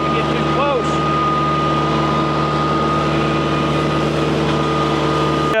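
A tractor engine drones steadily and loudly while running an articulating brush cutter, with tonal humming throughout and someone talking over it.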